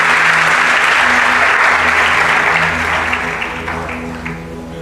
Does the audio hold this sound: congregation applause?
yes